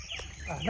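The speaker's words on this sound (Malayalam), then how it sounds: "പക്ഷികളെ സൗണ്ട് ഹെവി അല്ലേ" Farm birds with chicken-like calls cluck and squawk in short bursts, fairly close and moderately loud, on a farm in Palakkad.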